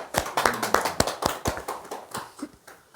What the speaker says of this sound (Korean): 박수 한번 치십시오